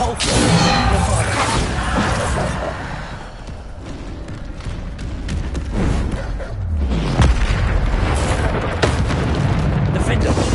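Bombarda spell explosions in a PS5 game, repeated loud booming blasts and crashing debris in a dense, noisy mix while a voice talks throughout.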